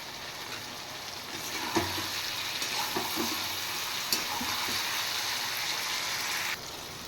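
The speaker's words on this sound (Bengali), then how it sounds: "পেঁয়াজ পাতাটা দেওয়ার পর বেশি ফ্রাই করব না, একটু নাড়াচাড়া করে তারপর আমি দিয়ে দেব জল" Spring onion leaves frying in a pan while being stirred: a steady, bright sizzle broken by a few soft scrapes and clicks from the stirring utensil, fairly close and without talk.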